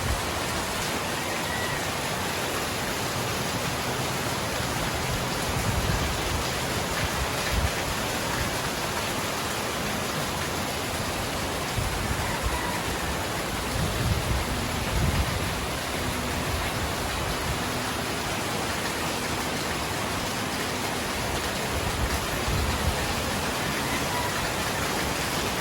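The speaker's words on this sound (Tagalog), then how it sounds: "Malakas yung ulan, hangin na naman." Heavy rain pours down with gusting wind in a dense, unbroken roar that stays loud and steady throughout, with occasional heavier surges of rain and wind.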